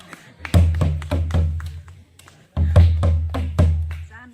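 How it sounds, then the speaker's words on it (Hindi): A nagada kettle drum beaten in short bursts of sharp, booming strokes at a tribal rights training session, two loud phrases of several hits separated by a pause, close and prominent. "ये नगाड़ा बजाएगा"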